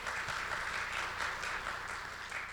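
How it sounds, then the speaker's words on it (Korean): Audience applause at a smart construction panel discussion, an even, continuous patter of many people clapping, moderately quiet and heard alone without speech. "예, 박수 부탁드립니다."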